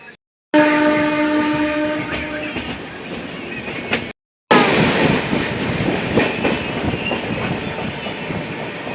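A long car-carrier freight train, loaded with cars, rolls past on the Rajahmundry–Visakhapatnam line: a loud horn blares at first, then a close, continuous rumble and wheel clatter carry on after a short break.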